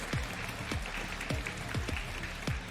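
A live crowd at an LEC esports League of Legends match, SK Gaming versus Fnatic, claps and thumps in a steady rhythmic beat of about two hits per second over a continuous murmuring background.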